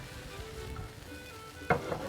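Macaroni goes into a hot pan and sizzles, a quiet steady fry broken by one short, sharp hiss as the pasta hits the surface.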